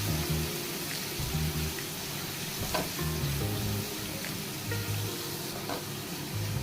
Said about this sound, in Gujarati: અને એને 1 થી 2 મિનિટ સરસ રીતે સાંતળી લઈશું તેલમાં